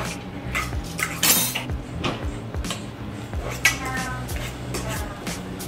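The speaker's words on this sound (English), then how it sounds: "So I'm gonna mash these with a fork in my cooking show." A fork mashing very ripe, mushy bananas in a bowl for muffin batter, with repeated scraping clinks of metal against the dish and soft squishing, near and moderately loud, no talking.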